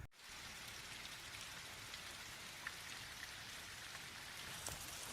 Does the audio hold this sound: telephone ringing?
no